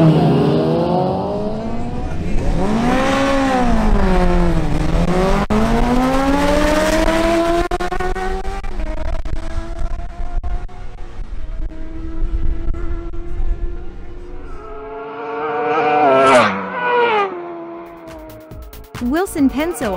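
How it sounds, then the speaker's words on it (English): Honda CBR1000RR and Ducati Panigale V4 drag racing on a strip, engines revving hard with rising and falling pitch sweeps through gear changes, loud and close, with a further high-revving burst near the end. "Closing the classifications, we have Wilson Penso's Honda CBR1000RR facing off against Ruben Torres' Ducati Panigale V4."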